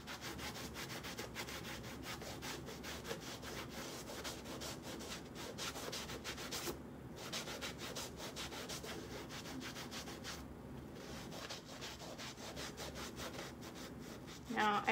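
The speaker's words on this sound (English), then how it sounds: "So I have cleaning paste on it, and then I just rub the shoe." A damp cloth coated in cleaning paste is rubbed over a dirty shoe in steady, continuous scrubbing strokes that run close and fairly loud, with two short pauses along the way.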